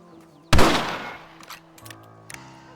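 A single sharp rifle shot cracks in Red Dead Redemption, loud and close, followed by a fading echo and a few faint clicks and rattles in a quiet outdoor setting.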